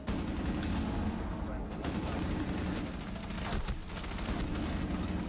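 Gunfire in the video game Rainbow Six Siege, a dense rattle of rapid shots and bursts over a constant loud din, with voices talking over the shooting.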